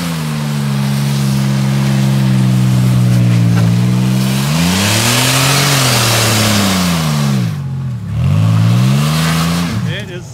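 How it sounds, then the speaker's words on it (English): A Can-Am Maverick X3 doing a burnout in wet dirt on a stormy day, its engine roaring loud and close with long sustained revs that rise and fall in pitch, briefly dipping near the end before surging again. "Just do a burnout on it."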